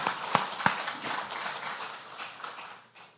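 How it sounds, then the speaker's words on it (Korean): Church congregation clapping in thanks during a worship service, opening with a few sharp distinct claps before settling into a scattered, fading round of applause. "감사의 박수를 하나님 앞에."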